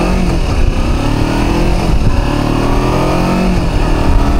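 A 2017 Kawasaki Versys X-300 motorcycle engine revs up loud and steady, pitch rising and dipping with quick gear shifts, heard continuously up close from the rider's position.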